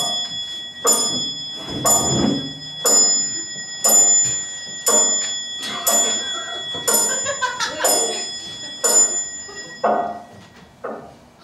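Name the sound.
clock chimes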